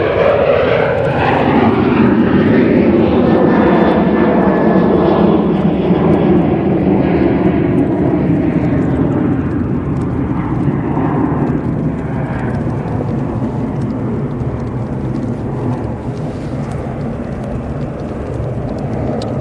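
Ryanair jet airliner departing Manchester Airport for Faro, a loud broad engine roar sustained throughout and slowly fading as it moves away, heard without talk.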